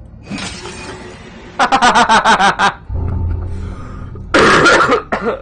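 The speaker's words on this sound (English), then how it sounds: "Well, that made me laugh and then I cough like an old man." A man coughs in loud, raspy bursts after a stretch of laughter, with a short quieter lull in between and another hard coughing fit near the end; no words are spoken.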